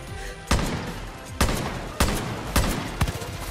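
Gunfire in the video game Far Cry New Dawn: five sharp shots at irregular intervals, each a loud broadband crack with a short decay, over a steady background din.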